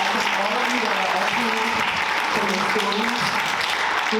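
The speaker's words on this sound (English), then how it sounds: "Let's give our panelists once again a round of applause" An audience applauds panelists at an evening community convening, steady dense clapping throughout, with a voice speaking over it.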